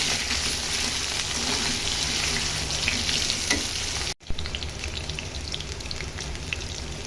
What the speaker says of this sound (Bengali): তারপর এর মধ্যে দিয়ে দিব আলুটা। ভালো করে একটু ভাজি করে নিতে হবে।